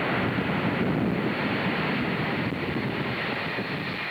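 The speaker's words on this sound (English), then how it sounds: "Additional Harrier jets arrived." Harrier jets at a southern Italian airbase, a loud, steady roar of jet engine noise that fills the whole stretch without pause, dense and broadband, like a nearby aircraft running.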